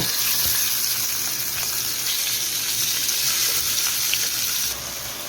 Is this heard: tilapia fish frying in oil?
yes